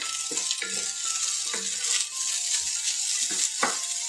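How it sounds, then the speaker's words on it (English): Ingredients sautéing in a pan for a Spanish rice casserole, with cheese sauce, diced tomatoes, onion powder and cumin: a steady soft sizzle broken by repeated stirring scrapes, fairly quiet, with no talking. "So we just saute that around for just 30 seconds or so."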